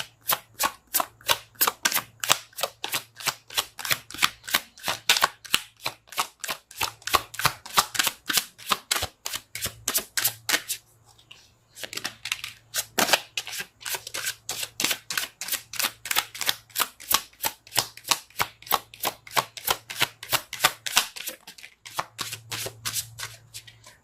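Tarot cards being shuffled in rapid, crisp riffles, repeated bursts with brief pauses between, close up and clear.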